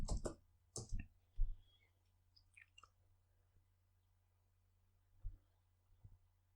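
Soft, sparse clicks of typing a search on a computer keyboard, a few close taps in small bursts with quiet gaps between.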